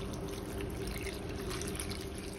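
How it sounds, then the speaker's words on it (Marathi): Water streams into a bowl of finely chopped radish leaves, a short, steady trickling pour heard close and alone. "ही पानं गोळतील एवढं पाणी घालायचंय"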